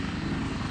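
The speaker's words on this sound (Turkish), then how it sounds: "bırak şu helikopteri be" A helicopter in the Minecraft video game thrums with a steady low rotor chop and engine drone, loud and close for a brief moment with no talk over it.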